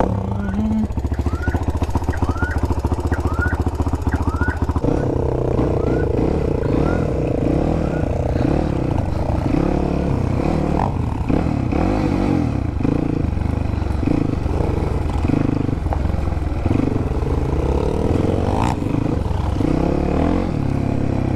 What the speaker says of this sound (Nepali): मैले चाहिँ यो बाइक लिएर जानेवालामा छु